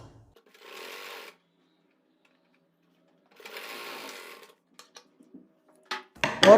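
A sewing machine runs a straight seam along two fabric strips for a kurti in two brief, separate bursts with quiet between, followed by light clicks and handling noises.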